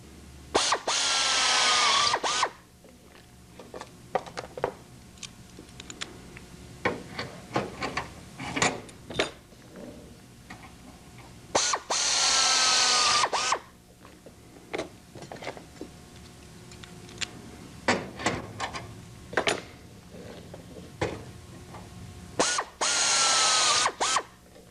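A power drill whirs in several short bursts between quieter clicks and metallic handling noises, close and loud, drilling aircraft tail parts and skins.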